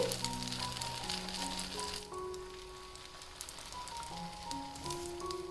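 Omelette batter for a bread cheese omelette cooks in a pan over a low flame, giving a faint, steady sizzle beneath soft sustained musical tones.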